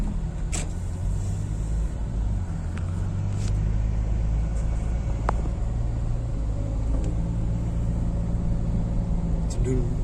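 A Toyota Innova automatic petrol car engine runs at a steady low idle, a constant close rumble with a few faint clicks and knocks over it.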